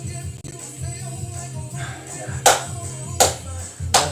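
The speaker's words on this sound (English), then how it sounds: "Clap along wherever you are." Several claps land in time with a song during a workout session, sharp hand strikes spaced roughly a second apart over steady music.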